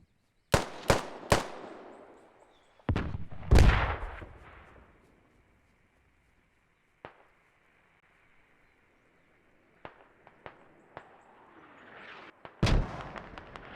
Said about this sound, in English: You can hear that BMP in the distance still firing off shots.